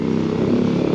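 A Honda Tornado 250 motorcycle idles or rumbles nearby on a street lined with small shops in Argentina, a steady low engine drone without pauses.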